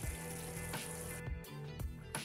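Masala spice powders sizzle steadily in a pan after soft-cooked tomatoes, part of a Kuwaiti-style chicken maqluba rice dish, with a few dull scraping knocks from stirring recurring at a slow, regular pace.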